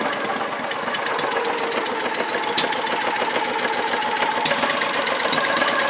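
A 2014 Landmaster LM650 utility vehicle engine runs at a steady, lumpy idle just after starting, with a few sharp backfire pops standing out over the continuous close, loud chug.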